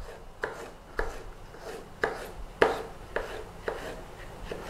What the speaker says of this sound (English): And then all we do is slice our red peppers.